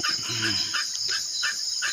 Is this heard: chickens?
yes